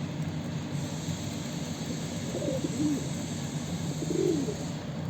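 Domestic pigeons coo in soft, low rolling calls a few times over a steady background hum, fairly close and without voices.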